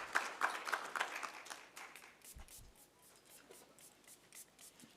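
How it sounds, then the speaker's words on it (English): Brief clapping from a conference audience for the chief guest, an honorable minister, at an African security event, strongest at the start then thinning into scattered faint claps and rustling. "Another round of applause, ladies and gentlemen, for our chief guest"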